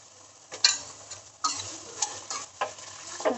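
Tomatoes fry in a pan for soya chaap curry, giving a soft, steady sizzle broken by several close stirring scrapes and light clicks of a utensil against the pan.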